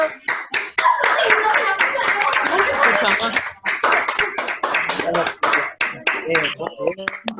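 An audience applauds a pair of colleagues at an encuentro on early-childhood emotional development. The dense, sustained clapping has voices mixed in and tapers into scattered claps near the end.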